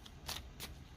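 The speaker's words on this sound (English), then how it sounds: "Okay, shuffle one more time." A tarot card deck being shuffled, two brief crisp riffling bursts of cards against a quiet background.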